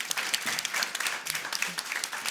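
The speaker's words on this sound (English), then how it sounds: "Yes, and a big applause for all of them." Applause from an audience honoring the Women in Charge 2018 speakers, a steady burst of many hands clapping throughout, fairly close and full, with no speech over it.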